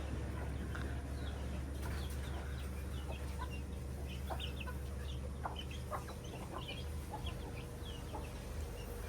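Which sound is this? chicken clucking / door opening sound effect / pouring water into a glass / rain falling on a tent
chicken clucking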